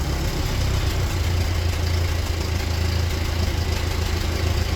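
An old Ford tractor, left out in the rain for years, idles with a steady, loud low rumble that holds evenly with no voices.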